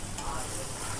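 Steady, close sizzle of egg bhurji frying and being stirred in a pan, continuous and even with no voices.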